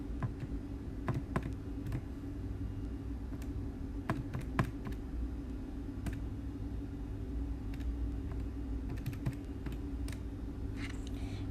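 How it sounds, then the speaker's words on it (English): Key presses tap out a calculation on a calculator, scattered sharp clicks at an uneven pace over a steady low rumble of background noise, with no voices. "Then type this into your calculator."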